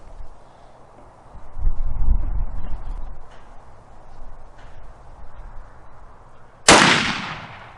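A rifle fires a single loud, sharp shot from a Caldwell Lead Sled solo shooting rest. The blast comes late, after several seconds of low rumbling and handling noise, and it decays with a short echoing tail.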